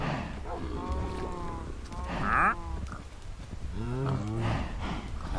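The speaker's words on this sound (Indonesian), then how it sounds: "Kok keledai yang keluar?" A donkey brays in Minecraft during a one-block survival game, a series of loud, wavering, honking calls rising and falling over several seconds, with a voice also heard faintly underneath.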